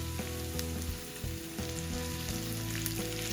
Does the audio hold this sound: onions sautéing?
yes